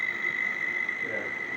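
Electric Morris Minor Traveller conversion idling, its permanent magnet motor giving off a steady high-pitched whine from magnetising current, with a faint low hum and background hiss throughout, no speech.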